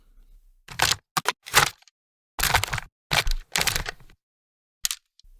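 A series of short, dry mechanical clicks and clacks in separated bursts, a Call of Duty weapon reload sound, with silence between them.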